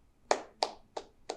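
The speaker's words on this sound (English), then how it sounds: "round of applause since I'm the only one in here" Four sharp hand claps at an even, unhurried rhythm, close and alone with no talk.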